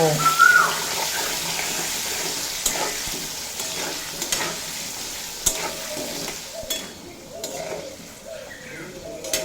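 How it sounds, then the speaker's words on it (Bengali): Potato pieces frying in oil with salt and turmeric powder, stirred in a pan, a steady hiss of sizzling broken by scraping strokes and light utensil knocks, close and moderately loud, without talk. "আলুগুলো স্বাদ মতো লবণ আর পরিমাণ মতো হলুদের গুঁড়ো দিয়ে খুব ভালোভাবে ভেজে নেব"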